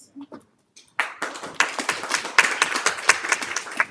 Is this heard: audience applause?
yes